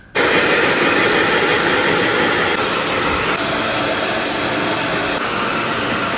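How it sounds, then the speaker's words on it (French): A hair dryer blows at full power, a loud, steady rushing whoosh that starts abruptly and runs unbroken before cutting off. "Je vais sécher mes cheveux avec le sèche-cheveux"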